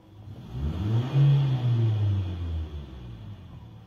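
Race car converted to run on natural gas accelerating hard, a rising engine roar that swells loudly near the middle and holds before tailing off, heard close with no talking.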